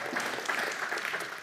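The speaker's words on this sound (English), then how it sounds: "Give him a round of applause." A live interview audience clapping in a short, steady burst of applause, fairly close and even throughout with no voices.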